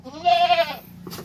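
A large mother goat on a goat farm in Negros Occidental gives a single loud, wavering bleat lasting about half a second, close to the listener, followed by quieter background sounds.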